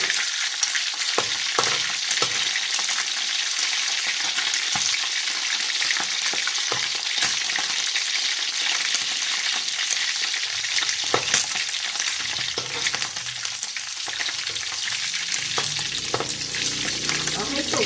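Marinated pork frying in a pan, a continuous loud crackling sizzle with scattered pops and occasional scrapes of stirring, close up and with no voices.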